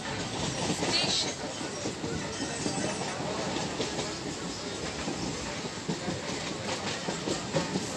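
A local train on the Tarakeswar–Goghat line enters Mayapur station, with a loud steady rumble, rattling carriages, rhythmic wheel clatter and a hiss, heard from inside the coach.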